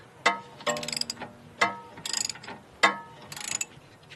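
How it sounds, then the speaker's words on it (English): A ratchet wrench works a large bolt loose at the bottom of a Porsche 928S front shock, three cycles of a sharp pawl click followed by quick rattling ratchet strokes, close and clear. "then you can finish taking out this big bolt at the bottom of the shock."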